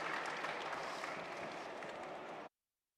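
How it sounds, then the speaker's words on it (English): Audience at a Bitcoin MENA 2024 conference applauding a panel, dense sustained clapping that cuts off abruptly near the end. "Please give a round of applause to this panel here, absolute legends"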